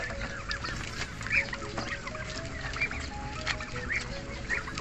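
Turkeys honking and gobbling in short bursts over steady outdoor farm noise while feeding on grass, several birds calling near and at mid-distance.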